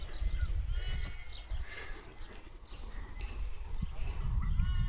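Hooves clip-clopping on a road amid outdoor rumble, with faint animal calls and birds in the background; no talking.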